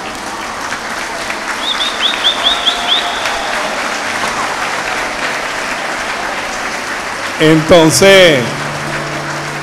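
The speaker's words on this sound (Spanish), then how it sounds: "Un aplauso." An audience claps together after a presenter calls for applause, a broad steady wash of clapping that holds for several seconds, with a voice talking over the end.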